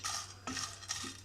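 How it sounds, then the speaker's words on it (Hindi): Whole green cardamom pods in their husks rattle and scrape in a dry frying pan as they are stirred for roasting, three soft strokes of clinking and shuffling over a faint low hum. "यहाँ पे फ्राई पैन में हम ये इलायची डालनी है।"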